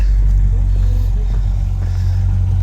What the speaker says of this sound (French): les copains ont démarré les voitures